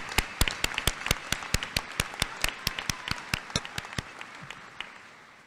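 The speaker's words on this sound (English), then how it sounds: "Please join me in a round of applause for our faculty," Applause at a college commencement ceremony, led by one nearby clapper beating a crisp, evenly spaced rhythm over a softer crowd, tapering off after about four seconds.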